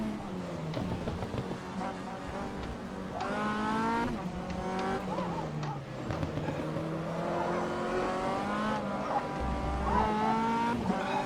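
An MCR 2000 race car's engine revs hard and rises through repeated gear changes, loud and continuous, with short drops between each climbing pitch.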